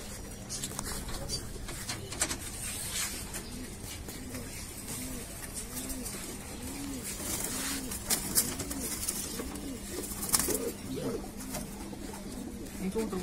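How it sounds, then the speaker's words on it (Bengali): Green gola pigeons coo in a steady repeating rhythm at close range, soft rounded calls recurring every second or so over a faint outdoor background. "এটা একটা সবুজ গোলা কবুতর।"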